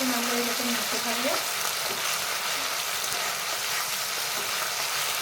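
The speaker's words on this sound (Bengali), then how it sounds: "টমেটোটা যতক্ষণ না কাঁচা গন্ধ যাচ্ছে ততক্ষণ আমরা এরকম নাড়তে থাকবো।" Tomato sizzles and fries in a pan while being stirred, a steady close hiss with a few scraping strokes early on, no voices.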